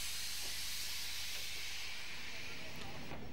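A class 38 steam locomotive, number 38205, lets off a broad, steady hiss of steam that holds at even loudness for several seconds, with a few faint knocks underneath.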